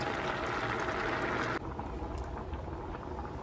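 A pot of beans boils at a steady, dense bubbling, louder at first and then dropping a bit, with no talking over it.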